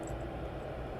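A jet aircraft taxiing at East Midlands Airport, a steady low engine rumble and broadband hiss holding constant and fairly loud throughout with no voices.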